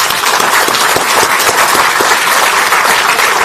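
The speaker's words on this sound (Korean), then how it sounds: "어려운 결정을 하셨는데 우리 박병석 전 의장님께 큰 박수 한번" Loud, continuous applause fills a room during a Democratic Party lawmakers' caucus meeting in Korea, many hands clapping densely and evenly from start to finish with no talk over it.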